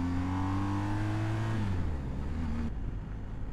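A BMW R1250GS Adventure motorcycle engine pulls away under light throttle, a steady low drone with rising harmonics that shifts pitch as it gains speed, heard close with wind and road noise over it.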